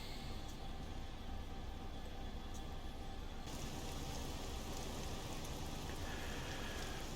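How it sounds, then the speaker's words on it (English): Rain falls in the Train Simulator Classic game as a Class 66 freight train runs from Felixstowe North Yard: a steady, even hiss of rainfall on surfaces continues without a break, with no talking. "as you can clearly see, the rain has come, which we knew was coming"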